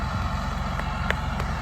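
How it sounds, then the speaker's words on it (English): Farm tractor engine idling nearby, a steady low diesel rumble with faint brief knocks over it. "Tractor's still running."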